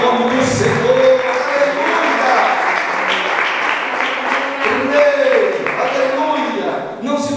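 A church congregation applauds in a steady, dense wash of clapping that fills the space, with voices shouting and praising over it throughout.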